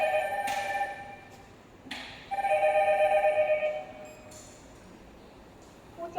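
After an intercom panel key is pressed, a telephone ring sounds in a quiet showroom: two short electronic ring bursts, then a longer warbling ring, followed by near silence.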